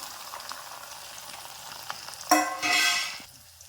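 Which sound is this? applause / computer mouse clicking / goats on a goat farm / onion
onion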